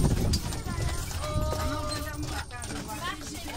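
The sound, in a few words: horse hooves clip-clopping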